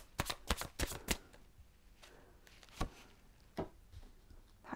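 Tarot cards are shuffled by hand in a quick series of crisp riffling snaps, followed by a few scattered slaps and flicks. The sound is close and fairly quiet, with no talking.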